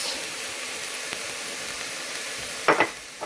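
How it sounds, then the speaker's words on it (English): Spices and chilies are stirred into a softening tamale filling over a steady background sizzle, with a couple of quick scraping stirs near the end; close by and without voices. "while that's softening, we're going to stir in our spices"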